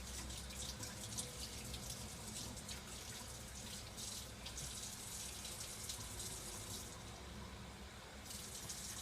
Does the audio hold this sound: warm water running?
yes